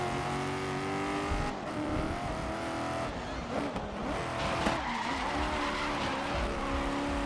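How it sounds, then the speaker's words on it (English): Car tires squeal and skid steadily while drifting in a racing video game, over a continuous loud engine drone with road debris and dirt noise throughout. "the tires when you drift, but you can also hear the dirt and like the debris on the road"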